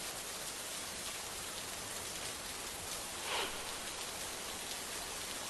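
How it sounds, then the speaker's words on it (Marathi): Heavy monsoon rain pours down in Palghar district, a dense continuous hiss of drops striking surfaces, steady and enveloping with no speech. "मोठ्या प्रमाणामध्ये पालघरमध्ये देखील मुसळधार पाऊस पडतोय"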